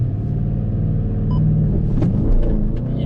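Nissan R32 Skyline sedan pulling away hard from a standstill, a loud close engine rumble holding steady and swelling slightly as it launches, with no talk over it.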